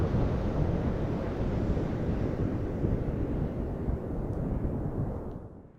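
Ocean waves breaking and rushing in, a dense, steady roar of surf with wind buffeting the microphone, fading slightly at the very end.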